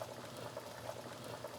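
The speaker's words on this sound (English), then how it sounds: "So our eggs have been boiling for 8 minutes" Eggs boiling in a pot of water on the stove, a steady low bubbling and rolling simmer throughout, close and moderately quiet, with no voices.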